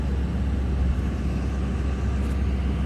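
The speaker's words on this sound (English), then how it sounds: "This truck, man, all of a sudden want to get loud." A truck engine rumbling loud and close, a steady heavy low drone that holds at full volume with no voices over it.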